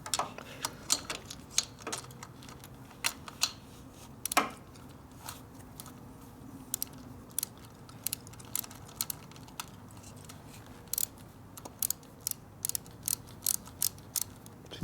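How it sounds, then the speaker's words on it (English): A torque wrench and ratchet work the top-end bolts on a custom rigid Harley-Davidson Evolution stroker engine, giving a run of sharp, irregular metallic clicks and ticks over faint background hum, with no talking. "the other red handle one tightens the bolts down. And then the torque wrench torques them."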